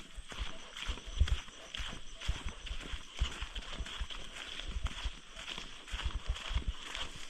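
A horse's hooves clip-clop in an uneven walking rhythm of soft, low thuds, heard nearby over faint background noise.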